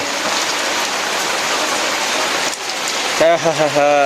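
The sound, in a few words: rain falling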